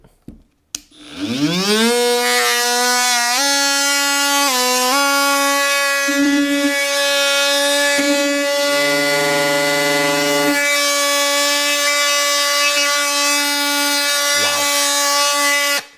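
A Ryobi ONE+ HP oscillating multi tool runs with a blade fitted, giving a loud, steady buzzing whine. It spins up at the start, dips in pitch briefly and shifts tone midway, then holds a constant drone through to the end.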